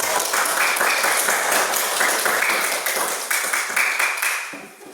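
Dense applause from a school class fills the whole stretch, steady and fairly loud with many overlapping hand claps, thinning slightly toward the end.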